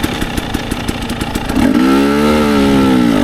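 An enduro motorcycle on a hard enduro trail kicks over with a few quick clattering pulses, then catches and revs up into a loud, sustained mid-pitched engine roar close by.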